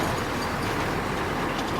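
A sugarcane field railway in Fiji, a small engine hauling a line of small trolleys, makes a continuous, loud, even rumbling roar with no breaks.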